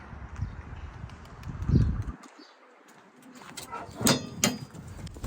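Turkish tumbler pigeons coo in low murmurs, followed by a soft gap and then brief flurries of wing flaps and rustling as they land nearby.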